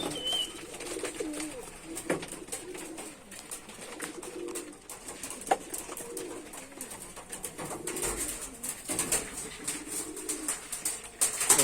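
Several nearby pigeons coo in low, rolling bursts that rise and fall, mixed with rustling and occasional wing flutters.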